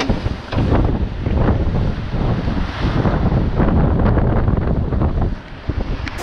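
Wind buffets the microphone over rushing sea waves while sailing the Mediterranean between Menorca and Sardinia, a loud, continuous roar with surging swells and no voices.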